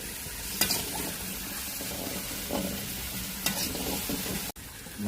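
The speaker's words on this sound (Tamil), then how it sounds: "முருங்காய் உள்ள போட்டு கொஞ்சம் எண்ணெயிலேயே வணக்கிட்டு" Onion, tomato and drumstick sizzling in oil, cooked outdoors, with a steady soft fry and a few scraping stirs of the spoon against the pan at intervals.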